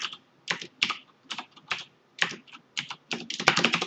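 Fast, close computer keyboard typing in uneven bursts of keystrokes with brief pauses, as router configuration commands are entered, growing denser near the end.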